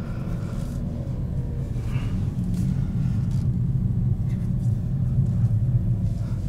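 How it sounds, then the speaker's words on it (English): A 2021 Kia with a manual transmission rolls along at low speed, its engine and road rumble a steady low drone throughout while a person talks over it. "The car's moving under its own power."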